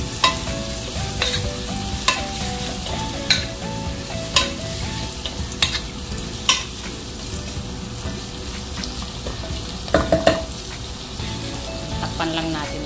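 Chicken igado fries and sizzles in a pan, with a spatula stirring and scraping at intervals in sharp, close clacks over a constant frying hiss, and no voices.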